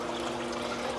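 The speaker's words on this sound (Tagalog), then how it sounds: "Hindi ko alam kung dahil yung tunog ng tubig, naririnig niyo ba?" Water runs steadily in a home fish aquarium tank, a continuous close trickling wash with no break over the short stretch.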